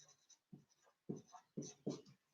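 Pen or marker writing by hand on a board or paper during an English class lesson, a few scratchy strokes in short bursts with quiet pauses between, close and moderately faint.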